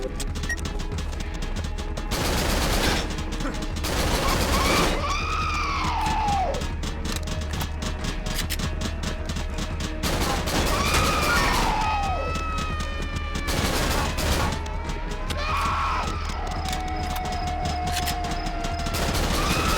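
Repeated shotgun blasts and gunfire in the horror video game Cry of Fear, dense and loud throughout with a busy, clattering mix of shots, impacts and pitched game effects layered together.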